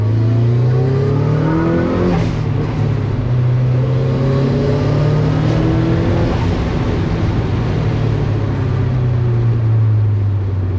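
A 1997 Mazda Miata engine accelerating on a drive around town, a loud steady drone that climbs in pitch through the gears, with continuous road noise and no talking.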